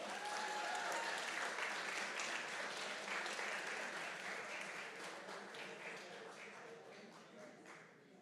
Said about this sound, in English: Can we give a round of applause for these hard-working judges?